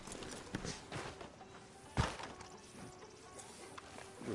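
Horse hooves clip-clop along a town street outside a sheriff's office in Red Dead Redemption 2, a soft, steady walking rhythm under ambient game sound, with one sharper thump midway.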